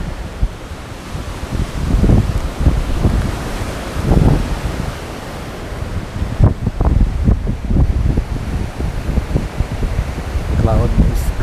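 Strong outdoor wind on a cloudy day roars and buffets the microphone in loud, rumbling gusts that swell and ease throughout, with no quiet gaps.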